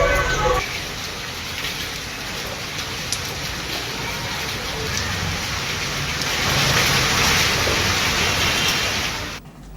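Heavy torrential rain pouring steadily in Uttarakhand, a dense continuous hiss that holds loud throughout, swelling slightly toward the end with no voices.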